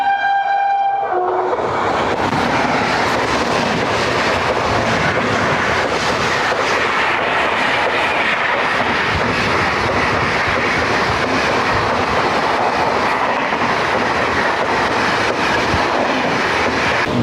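The 12216 Bandra Terminus–Delhi Sarai Rohilla Garib Rath Express passing a platform: a short horn blast opens, then a sustained loud roar and rhythmic clatter of coaches rushing close by.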